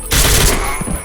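Short burst of SMG fire in the video game Ashes: Afterglow, a loud dense crackle of rapid shots lasting about a second.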